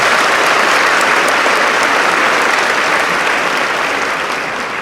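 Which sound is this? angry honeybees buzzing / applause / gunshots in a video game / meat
applause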